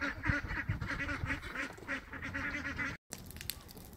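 Domestic ducks in a small female-only backyard flock, honking and quacking in a busy, overlapping chorus of repeated calls close by, broken by a brief silence near the end before the calls resume more quietly.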